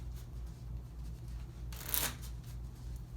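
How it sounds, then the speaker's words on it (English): Playing cards riffle in a brief shuffle, a soft papery flutter peaking in one quick burst over low background hum during a card trick. "Shuffle the cards again."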